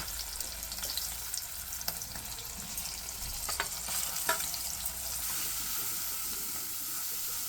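Turmeric and chilli paste with curry leaves and cut green chillies fries in oil in a pot for bottle gourd pulusu, a dense steady sizzle under occasional light spoon scrapes, close and continuous.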